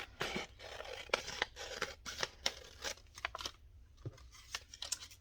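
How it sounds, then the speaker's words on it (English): Scissors snip repeatedly through paper for a woodland-themed collage craft: a quick series of close, crisp cuts and crunches in an irregular rhythm, fairly quiet with no talking. "I'm going to cut this one down"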